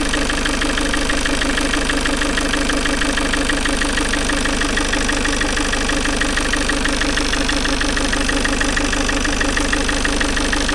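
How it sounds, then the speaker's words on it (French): A Peugeot/Citroën Jumpy diesel engine idles loudly and steadily close by, its low rumble carrying a fast regular ticking click from the upper right side of the engine, worse when cold, with no talking. "Donc là je vais démarrer le moteur pour te faire écouter."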